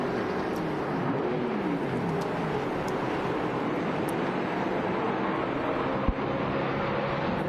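Callaway Corvette race car in an enduro passing on a circuit, a steady broad engine and wind roar with a rising and falling pitch sweep as it goes by, a sharp thump near the end, no talk.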